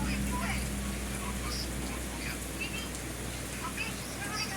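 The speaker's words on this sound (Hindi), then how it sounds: "देखिए बारिश बहुत तेज़ी से है, अभी आंधी थोड़ा थोड़ा आ रहा है" Heavy rain pours steadily as a storm wind picks up, a dense continuous hiss of drops on surfaces with a low rumble underneath and faint background noise.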